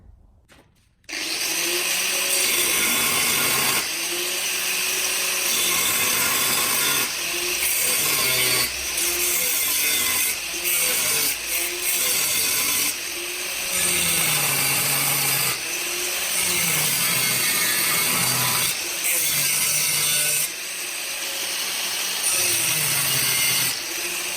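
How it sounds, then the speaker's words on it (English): An angle grinder grinds out cracks in metal parts, a loud, steady, close whine that starts abruptly and then shifts in pitch and load as the disc works, with no talk. "Okay, so we've ground out all the cracks now."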